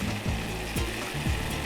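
Demi-glace sauce boiling in a frying pan on the stove, a steady close sizzle and bubbling hiss running without a break, with faint clicking underneath and no voices.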